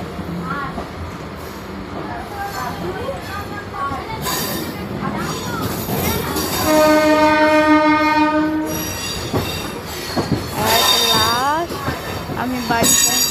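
A passenger train in West Bengal's Howrah district slowing as it pulls into a station, with rumbling carriages, screeching wheels, and a long horn blast partway through, heard from on board. Someone speaks over the noise.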